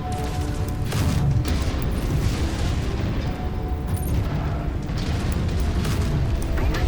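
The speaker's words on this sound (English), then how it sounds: "That just turned into a bundle of ammo explosions." Ammo stores cooking off on a destroyed mech in the game MechWarrior 5: Mercenaries, a loud, continuous stretch of booming blasts and rumbling bursts that runs for several seconds with no speech.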